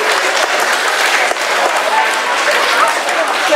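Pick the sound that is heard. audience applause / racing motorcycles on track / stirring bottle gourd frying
audience applause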